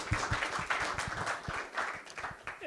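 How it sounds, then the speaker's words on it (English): An audience at a community talk gives a brief round of clapping, fairly quiet and uneven, with separate claps audible and no talk over it. "let's give him a round of applause"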